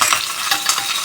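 Curry leaves fry in hot oil with mustard seeds and cumin, giving a bright, continuous close sizzle with spattering crackles and a scrape of stirring.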